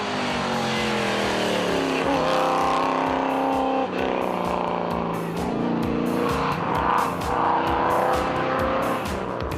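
A 1967 Ford Mustang at speed on a Classic Adelaide rally stage, loud V8-style engine roaring through rising and falling revs with gear changes, tire squeal mixed in, close and continuous without speech.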